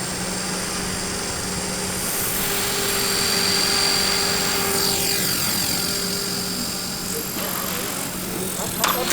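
A small remote-control helicopter spools up, its rotor whine and blade buzz climbing steadily in pitch and loudness before lift-off, close and continuous, with faint voices underneath.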